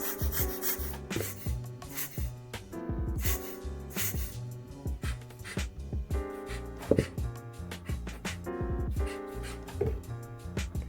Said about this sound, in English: this soap bottle can make a lot of different sounds